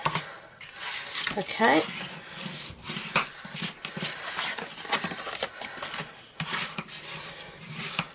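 A scoring tool drags across paper for a one-sheet mini album, giving short scraping rubs and light taps in quick strokes, up close, with a brief spoken word between them.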